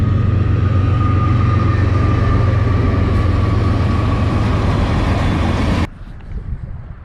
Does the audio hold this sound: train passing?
yes